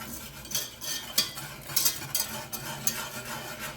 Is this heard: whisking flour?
yes